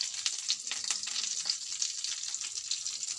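Green chillies and curry leaves frying in hot oil for peanut chutney, a close, steady crackling sizzle with soft spattering pops throughout, no voices.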